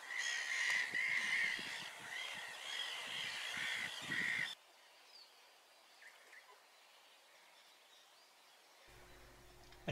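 Loud, dense chorus of harsh gull and tern calls for about four seconds, then the colony drops away to fainter scattered calls in the background.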